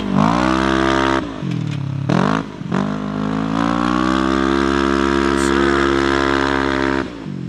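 A Polaris RZR Turbo S powers through tight turns on a makeshift dirt track, its engine droning loud and close, dipping briefly off throttle several times before revving back up to a steady high roar.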